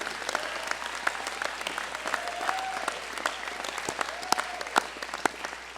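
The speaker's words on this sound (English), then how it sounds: "let's give them a round of applause" An audience at a 2021 firefighter recruit academy graduation claps steadily for the graduating recruits, with a full burst of applause and sharp individual claps standing out across the whole stretch.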